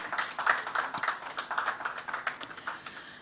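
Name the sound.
audience applause for clients at a product launch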